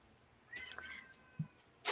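A cat meows indoors, a drawn-out mid-pitched cry, followed by a short thump and a brief noise at the end, against a quiet room.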